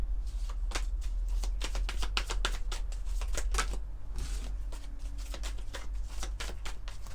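Tarot cards are drawn and handled in a card reading, giving a steady run of close, crisp paper flicks and shuffling riffles. A brief pause comes before the rustling resumes, with no voice heard.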